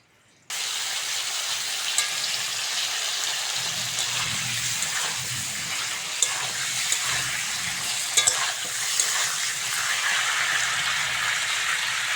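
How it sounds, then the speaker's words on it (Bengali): Pointed gourd (potol) frying in mustard oil with a little salt in a kadai gives a steady, close sizzle and crackle. Occasional stirring clicks and a low rumble join it after a few seconds, with no talking. "কড়ার মধ্যে সর্ষের তেল দিয়ে দেবো দিয়ে পটলটা ভেজে নেব"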